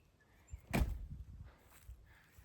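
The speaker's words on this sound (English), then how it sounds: "I'm gonna shut this door." An exterior door being pulled shut at a house in New Hampshire, one firm thud near the middle followed by a few softer knocks and shuffles, heard fairly close with no talking.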